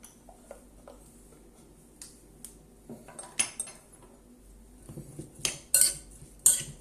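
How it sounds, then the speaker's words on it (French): A spoon stirring a mixture seasoned with chili powder, giving scattered clinks and scrapes against the bowl that grow louder and more frequent toward the end, close up with no talking. "Et on mélange."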